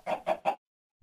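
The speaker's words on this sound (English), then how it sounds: "So I'll spawn 2 chickens" A Minecraft chicken gives three quick clucks in a row, close and clear, then goes silent.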